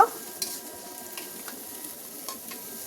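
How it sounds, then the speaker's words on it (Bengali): Onion and garlic frying in a pan for a spicy duck bhuna, a steady soft sizzle with a few light scrapes and clicks of stirring, close and fairly quiet, no talking. "এখন এটাকে একটু ভেজে নিব"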